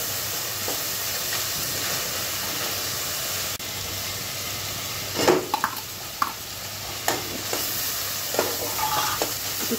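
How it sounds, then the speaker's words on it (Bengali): Garlic paste and onion paste sizzle and fry in a hot pan for a Bengali rohu fish kalia, a steady hiss with occasional stirring scrapes and pops. "তারপর এক চা চামচ রসুন বাটা আর এক চা চামচ বাটা পেঁয়াজ দিয়েছি, সেটা খুব ভালো করে একটু ভেজে নেব।"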